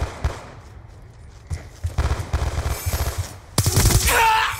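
Rapid bursts of gunfire in Call of Duty: Black Ops 2 on the Nuketown map, with scattered near shots building into dense automatic fire and a loud burst of clatter at the end.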